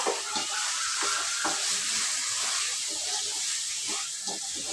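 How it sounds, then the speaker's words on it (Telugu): Chicken curry seasoned with salt and chili being stirred in a pot, a steady soft sizzle and hiss with light scraping strokes of the spoon, close and continuous with no talking. "ఒకసారి అయితే బాగా కలిపేస్తాను"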